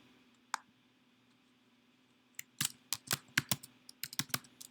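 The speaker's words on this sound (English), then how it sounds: "Type in your notes." Fingers type on a computer keyboard in a quiet room: one isolated click, a pause, then a quick irregular burst of crisp keystrokes, close and fairly faint.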